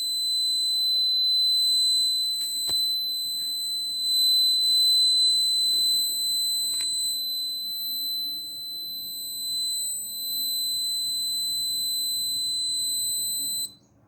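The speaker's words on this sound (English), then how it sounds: "Whenever the emergency, red LED is the emergency, alarm should be on continuously." A GPS/GSM women safety bangle sounds its emergency alarm, a continuous shrill, high-pitched electronic beep that holds steady for about fourteen seconds over faint background hum, with a couple of brief clicks.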